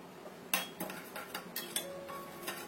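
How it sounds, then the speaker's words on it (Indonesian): A spoon stirring a mixture of oyster sauce and soy sauce in a bowl, producing a few light clinks and taps against the side, quiet and close with no voices. "Kita aduk sampai tercampur"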